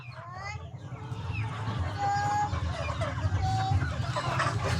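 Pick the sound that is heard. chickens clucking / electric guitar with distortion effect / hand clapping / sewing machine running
chickens clucking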